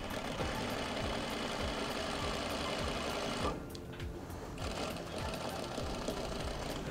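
A sewing machine stitching fabric runs in a fast, even mechanical rattle close by, pausing briefly midway before resuming at the same steady pace, no voices.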